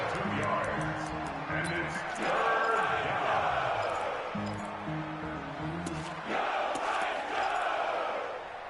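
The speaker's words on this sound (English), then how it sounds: "the crowd getting into it as we come up on a big 3rd down" A football crowd in a PS4 video game roars loudly and steadily ahead of a big third down, with swelling cheers and rhythmic game music underneath.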